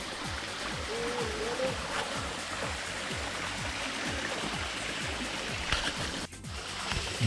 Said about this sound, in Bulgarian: Това е водопадчето Свети Георги.